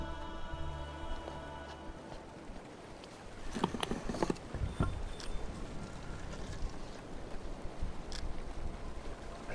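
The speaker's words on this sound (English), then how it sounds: "Alright, so we now have water flowing for some reason." Water flowing in the Myst IV: Revelation video game, a steady rushing wash that holds for the whole stretch, with a few louder splashing or knocking bursts partway through.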